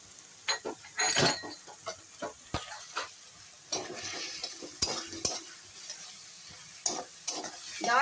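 Chicken frying with ground spices, including cumin, chili, coriander, Kashmiri chili and meat masala, gives a soft sizzle as a spoon stirs and scrapes the pot in quick irregular strokes, fairly quiet and close.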